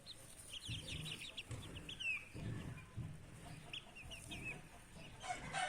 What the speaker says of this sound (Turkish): civcivler köy tavuğu civcivleri oluyorlar